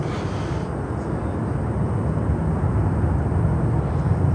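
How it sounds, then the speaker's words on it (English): A Frontier Airbus A321neo about two years old lands on runway 12, heard as a loud, steady broadband roar of jet engines throughout, with no voices. "Frontier is coming in on runway 12. With a 321 Neo"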